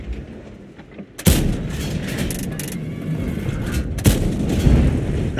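Two heavy tank cannon blasts in a video game battle, one early and one about three seconds later, each a sharp boom followed by rumbling over continuous battle noise.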